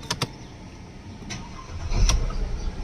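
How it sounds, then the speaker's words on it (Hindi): A Mercedes-Benz car engine is started after a check engine light fault scan: a couple of faint clicks, then a brief crank and low rumble as the motor catches and settles near the end. "कार बंद करके वापस स्टार्ट करता हूँ।"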